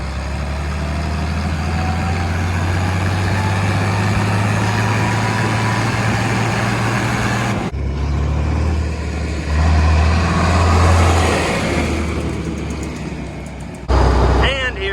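A John Deere 4320 tractor's 404-cubic-inch naturally aspirated diesel engine runs steadily with a deep low drone, loud and close, its tone shifting partway through.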